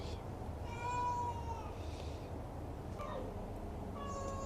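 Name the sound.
shelter cats meowing for treats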